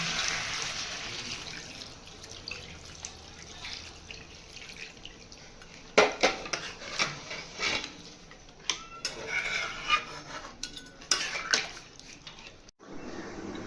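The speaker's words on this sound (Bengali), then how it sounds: "এবার আমি গরম জল দিয়ে দেবো।" Hot water pours into a cooking pot of potatoes and desi chicken curry, a hissing, splashing stream with scattered drips and sharper splashes that grow busier partway through.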